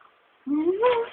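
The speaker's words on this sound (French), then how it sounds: "c'est un chat qui s'est abandonné" A rising, drawn-out meow from an abandoned stray cat follows a brief spoken exclamation indoors, sounding close and fairly loud.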